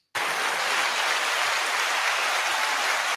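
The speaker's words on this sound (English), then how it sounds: "Is that applause?" A short burst of dense, even applause from a live show audience, starting and stopping abruptly with no voices over it.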